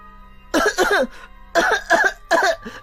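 A child coughs hard in three harsh bursts, with a strained, choking edge, close by and otherwise quiet.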